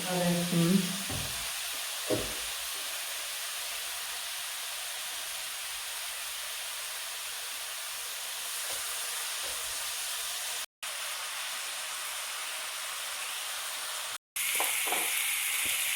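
Prawns for a biryani fry in a pan with a long, even sizzle and hiss that holds steady throughout, with a few brief stirring knocks near the start and a voice talking faintly at first.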